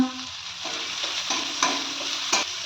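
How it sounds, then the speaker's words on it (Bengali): Chopped green beans and carrots being stirred in a frying pan for vegetable soup, a soft steady sizzle with several distinct scraping strokes of the spoon, no talk. "এবার এর মধ্যে আমি বিনস কুচিগুলো দিয়ে দিলাম দিয়ে একটু নেড়ে দিচ্ছি"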